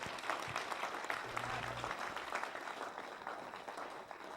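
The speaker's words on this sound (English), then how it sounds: "Give a round of applause." An audience at a motivational talk breaks into sustained applause, a dense, even wash of clapping that carries through the whole stretch without fading, with a brief low hum near the start.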